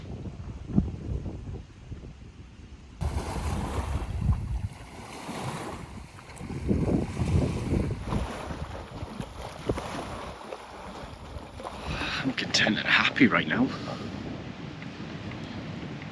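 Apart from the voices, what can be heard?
ocean waves and gentle breeze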